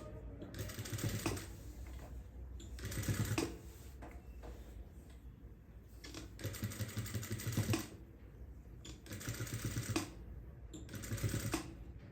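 A sewing machine stitches a garment neck design in several bursts of rapid, close mechanical chattering, separated by brief quieter pauses.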